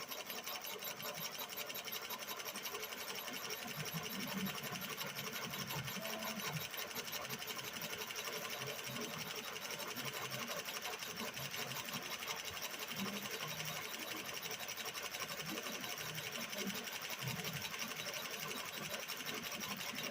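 An industrial walking foot sewing machine of the Consew, Sailrite or Juki type runs steadily as it winds a bobbin, a loud continuous mechanical whir with a fast even rhythm lasting the whole stretch, with no one speaking.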